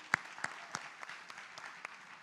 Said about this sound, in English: So another round of applause for Prof. Adeeba